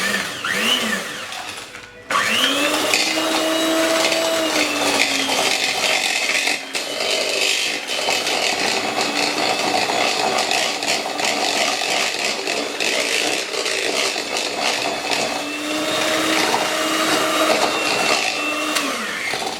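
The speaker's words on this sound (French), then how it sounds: "Et je viens mélanger le tout avec mon batteur." An electric hand mixer whirs loudly and continuously as it beats mascarpone cream with granulated sugar for tiramisu, its motor pitch dipping and rising as the beaters meet the thick mixture, with one brief pause early on.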